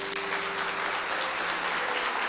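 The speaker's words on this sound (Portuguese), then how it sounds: "Poderia ter aplaudido, não era?" A church audience applauding, dense steady clapping from many hands at an even level through the whole moment.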